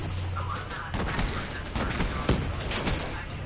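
XPR rifle gunfire in a multiplayer shooter game, a run of close, rapid cracking shots with mechanical clatter over a steady background of game noise.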